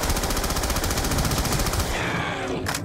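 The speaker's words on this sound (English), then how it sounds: "It takes like flipping 40 bullets with a Tommy gun." Tommy gun blasting in rapid sustained automatic bursts during a Mob of the Dead zombie match, loud and close, with the firing cutting off near the end.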